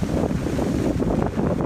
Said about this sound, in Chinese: 午后恒春半岛风雨明显，出现间歇性阵风和大雨